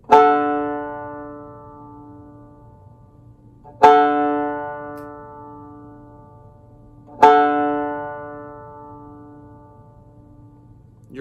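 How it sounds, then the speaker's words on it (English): Open fourth string of a banjo, tuned to D, plucked three times with long pauses, each twangy note ringing out and fading slowly, close and clear over a faint background hum. "Your fourth string is also a D,"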